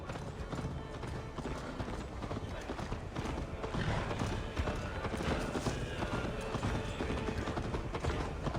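Horse hooves gallop steadily in Assassin's Creed Valhalla, a fast clip-clop rhythm running throughout with an occasional whinny, mixed with game music and ambience and some voices.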